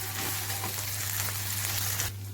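Salmon seasoned with salt and pepper frying in a pan over medium-low heat, a soft, even sizzle with faint crackles and a low steady hum beneath, fading at the end.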